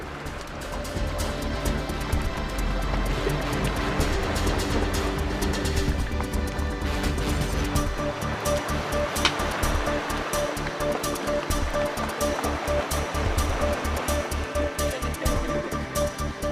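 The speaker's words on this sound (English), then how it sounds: "The sound of bubbles popping, the sound of ice grinding against itself." Icebergs drifting in Antarctic water, a dense continuous fizz of popping bubbles and rushing water with low grinding ice rumbles, loud and close throughout.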